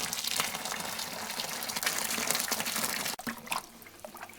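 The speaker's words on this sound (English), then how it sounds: "Now we mix the hot water with the sugar" Hot water gushes and splashes steadily into a container with sugar for a homemade fuel alcohol mash, a continuous close rushing pour that breaks off briefly near the end into lighter sloshing.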